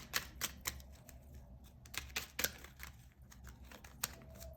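Crisp, irregular clicks and soft riffling of tarot cards being shuffled, close by and fairly quiet, with no voices.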